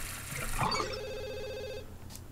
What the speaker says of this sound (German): Das Telefon nervt irgendwo.